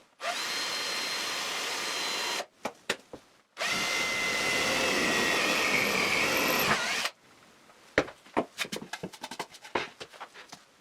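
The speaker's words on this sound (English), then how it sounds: "I need to drill those holes, making a preliminary mark by eye with the drill bit to center it." A drill press whirs loudly in two long bursts as the bit bores holes in a wooden board, separated by short pauses, then a stretch of sharp knocks and clatter as the drilling stops.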